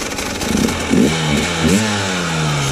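A cross motorcycle, freshly washed after training on snow and ice, idles and revs up close, its engine pitch sweeping up and falling back in a few smooth bursts before settling into an even drone.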